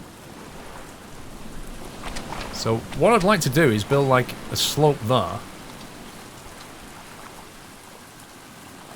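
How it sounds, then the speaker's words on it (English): Steady rain falls in the survival video game Stranded Deep, a soft continuous hiss running throughout while someone talks briefly over it. "Oh, it's raining, blimey."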